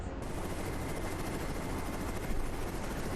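Attack helicopter in the Carrier Command 2 naval strategy video game, a dense, loud rotor-and-engine roar with a rapid chattering beat, steady and close over a few seconds.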